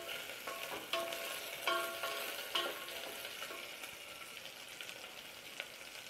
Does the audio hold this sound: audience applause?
no